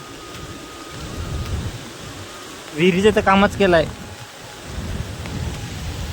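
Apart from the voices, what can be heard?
rain falling outdoors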